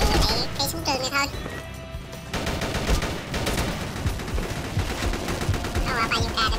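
M4A1 rifle and MG4 machine gun firing in a video game, dense rapid bursts of gunfire continuing throughout with a voice talking over them.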